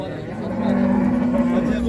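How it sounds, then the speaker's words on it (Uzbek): A cow moos in a long, steady low call at a busy livestock market, with crowd noise and faint voices behind it. "Sigirlar ko'rsatamiz."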